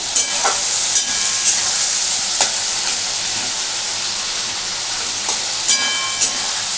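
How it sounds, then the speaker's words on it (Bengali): Fish roe curry with a little yogurt sizzles and fries steadily in a pan over lowered gas, a loud continuous hiss broken by several sharp clinks of stirring. "এটা একটু ভাজা ভাজা হচ্ছে"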